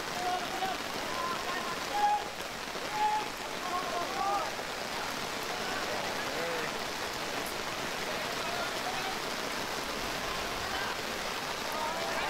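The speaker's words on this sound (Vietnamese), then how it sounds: "Trời đang ngày một mưa to hơn." Heavy rain falls steadily over an outdoor amateur football match, a continuous broadband hiss from start to finish, with a commentator's voice and faint distant shouts heard beneath it.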